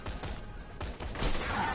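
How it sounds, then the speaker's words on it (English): In a video game, a Logan's Gun explosive pistol fires into the ground, setting off a few quick small blasts in a rapid burst, fairly faint and muffled. "You shoot at the ground, and it'll make a small explosion."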